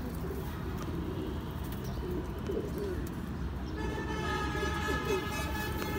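Pigeons of a cross-bred home breed cooing in a loft, soft low cooing over a constant rumble of background noise, with faint tooting tones toward the end.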